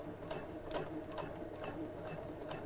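Sewing machine stitching the lining of a cushion cover close to the piping, a steady fast mechanical whirring with rhythmic ticking pulses, fairly quiet and close with no talk.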